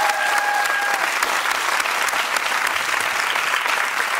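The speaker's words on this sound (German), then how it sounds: "ihr drei, bitte unter tosen Applaus" A live studio audience at a German song-guessing show claps loudly and steadily for several seconds, a thick continuous wash of applause with a brief tone early on.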